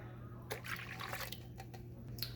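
Water poured into a bowl while mixing a meatball sauce with beef broth, a short splashing and trickling run of liquid close by, with no talking.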